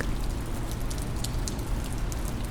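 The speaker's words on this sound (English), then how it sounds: "the rain outside" Steady rain falls outside on a quiet evening, a continuous dense patter with scattered brighter drops, soft and even for the whole stretch.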